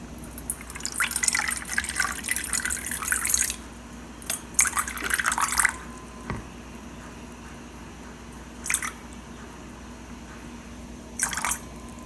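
Water is poured into a sourdough starter in several short splashing bursts separated by quiet pauses, heard up close in a kitchen with no talking.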